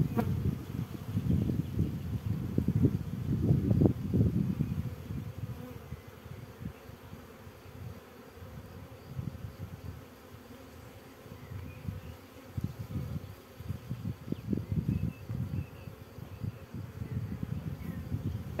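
A honeybee swarm taken from a beech tree buzzes during a hive inspection, a dense low drone that swells and fades in waves, close and continuous with no talking.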